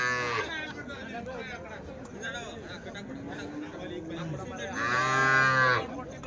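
Cattle lowing at a Sunday cow market in Chintamani, several drawn-out moos rising over steady crowd chatter, with one loud, close bellow near the end.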